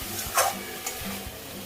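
Jackfruit and prawn curry is sautéed in a pan: a short soft sizzle with a scraping stir stroke and a couple of light knocks of the spoon, heard close and alone.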